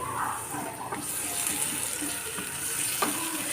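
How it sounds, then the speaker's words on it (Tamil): Onion and tomato frying in oil in a pan, a close, steady sizzle that fills the whole stretch at an even level, with a voice speaking over it. "ஆயிலில் கொஞ்சம் வெங்காயம் கொஞ்சம் தக்காளி நல்லா வதங்கிக்கிறட்டும்"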